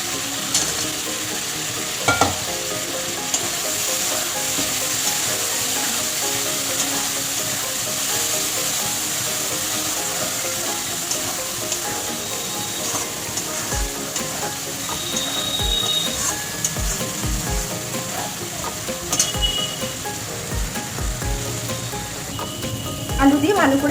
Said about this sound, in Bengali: ভালো করে একটু কষিয়ে নেব মশলা